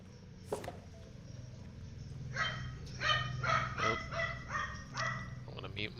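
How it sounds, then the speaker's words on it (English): A real dog barks repeatedly in a steady series of medium-loud barks somewhere in the room, heard over faint background game sound during a live stream. "my dog's gonna be barking"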